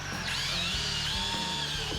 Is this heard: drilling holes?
yes